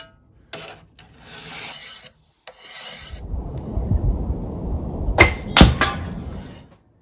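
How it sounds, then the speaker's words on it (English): Scraper dragged along the belly of a length of bamboo: a couple of short, hesitant rasps, then a longer rough scraping stroke building in intensity with sharp catches and clicks near the end. "the belly of this bamboo with my scraper and really kind of having a rough go of it"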